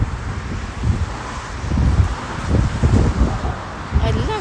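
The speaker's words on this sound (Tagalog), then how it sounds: "Sobrang malakas naman yung hangin" Strong wind buffets the microphone in rough, low gusts at a corniche park, with voices talking faintly underneath.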